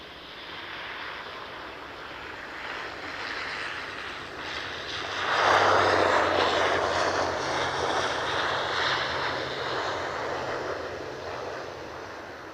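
A KLM airliner departs Edinburgh airport, a steady far-off jet roar that swells to a louder broadband rush midway and then holds, with no voices over it.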